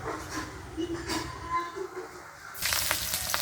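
Chopped onion hits hot oil in a pan as cooking of a baim (spiny eel) fish dish begins; a steady close sizzle and crackle swells up near the end, with background household noise before it.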